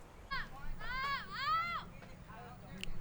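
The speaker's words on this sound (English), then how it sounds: "I don't know if you can hear all that shouting behind me, but it's coming from the bird blind" Distant teenagers shout and call out from a bird blind at a lake state park, several short raised voices carried across open air, faint and echoing.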